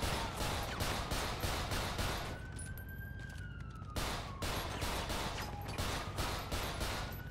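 Rapid automatic gunfire in a shooter game, sustained bursts of dense shots with a brief pause, while a siren-like tone wails underneath.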